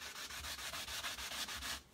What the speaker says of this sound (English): So I'm going to gently sand across this